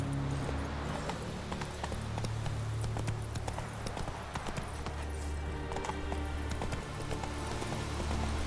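Roach, the horse in The Witcher 3, galloping with steady, rhythmic hoofbeats that run continuously at close range over a low ambient bed, with no talk over them.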